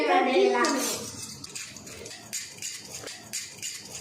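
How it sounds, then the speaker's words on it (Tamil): A metal dosa griddle is set down with a clatter near a stovetop, followed by a few light clinks of cookware, all fairly close and quiet. "இந்த தோசை கல்லை எடுத்து இப்படி வைக்கணும்"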